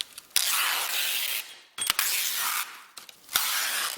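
By hand, the fabric edge of a coiled sanding belt is torn away in several rasping, ripping strokes, each lasting about a second, with brief sharp snaps and pauses between them.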